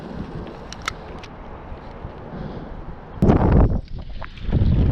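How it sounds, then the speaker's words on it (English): A massive gust of wind blasts across the microphone near a highway creek during red-flag warning conditions, a loud rumbling roar that surges suddenly after a calmer stretch, then eases and swells again. "Massive wind gust."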